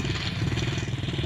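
A video game motorcycle engine runs at a steady, low idle, a continuous throbbing hum with no clear revs, close and moderately loud throughout.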